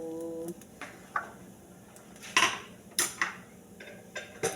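Dishes being washed in a household kitchen, a sparse series of close clinks and clatters of plates and cutlery at irregular intervals over a quiet background.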